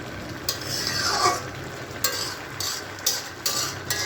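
Mixed vegetables cooking in a pan, a steady close sizzle broken by several sharp scraping stirs at irregular intervals, with no voices.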